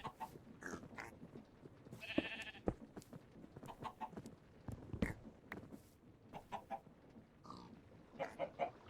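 Several Minecraft chickens cluck in a game world alongside other farm animal noises, with frequent short, clipped calls scattered throughout and fairly faint overall.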